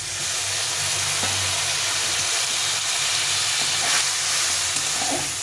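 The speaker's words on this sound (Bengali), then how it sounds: "এখন একটু জল দিয়ে মশলাটাকে কষিয়ে নেব।" Spice masala for potol bahar (pointed gourd curry) sizzles and fries hard in a pan after water is added, a loud, steady hiss with occasional stirring scrapes and no talking.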